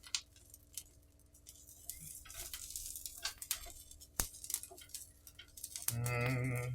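Asparagus and onions sautéing in a pan, a soft steady sizzle under clinks and scrapes of a utensil turning the vegetables, with a sharp knock midway and a louder hiss toward the end.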